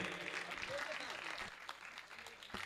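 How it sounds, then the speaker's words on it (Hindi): Applause from the audience at a Hindi poetry gathering (kavi sammelan), a faint, busy spread of many hands clapping that thins out toward the end, with voices murmuring underneath. "एक बार जोरदार तालियां भाई पीयूष मालवीय जी के लिए आप लोग बजाइए।"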